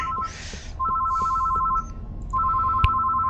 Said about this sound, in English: Oh, phone's ringing again.